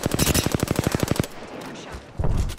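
Rapid automatic gunfire from an Apex Legends match, a fast burst of about a dozen loud, evenly spaced shots that cuts off, followed by scattered quieter effects and a renewed burst of noise near the end.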